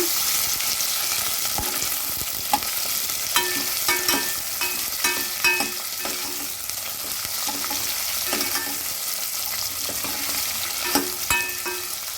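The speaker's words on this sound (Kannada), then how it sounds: "ಒಣಮೆಣಸಿನ್ಕಾಯಿ, ಈರುಳ್ಳಿ, ಇವಾಗೆಲ್ಲ ಒಂದು ಸ್ವಲ್ಪ ಫ್ರೈ ಮಾಡೋಣ" Steady sizzling of dried red chillies and onion frying in a pan, with repeated scraping and clinking of a spatula stirring throughout.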